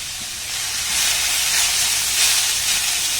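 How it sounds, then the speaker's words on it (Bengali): Raw grated potato and flour snack fries in hot oil in a pan, giving a steady, fairly loud hiss and sizzle with no pauses. "একটু নাড়াচাড়া করে ভেজে নিলেই হবে।"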